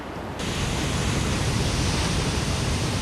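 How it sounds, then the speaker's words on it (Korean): High, swirling sea waves under cloudy skies near an offshore structure, a steady, dense roar of surf and wind filling the clip without a break, loud and close. "흐린 날씨와 소용돌이 치는 높은 파도는 정박의 어려움을 예고하는데"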